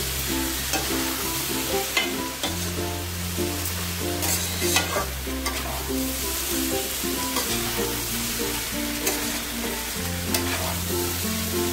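Spices and salt stir-fried together for khichuri, a steady sizzle and scraping that runs the whole time beneath louder background music with a repeating bass line.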